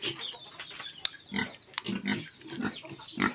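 Pigs offered for sale at a farm grunt and squeal in short repeated bursts, fairly close, with some bird or chicken sounds mixed faintly in the background.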